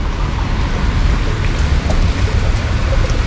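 Rain drips from trees onto an umbrella on a wet morning in a seaside resort, making a dense, close, constant patter with a low rumbling hiss underneath.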